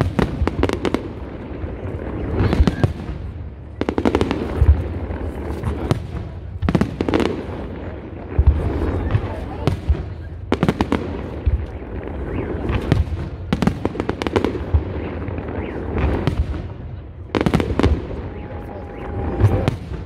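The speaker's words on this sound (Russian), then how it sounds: "Будем с вами салют" Victory Day fireworks burst again and again over a riverside park, loud booming explosions with crackling tails, a quick run of blasts followed by short pauses.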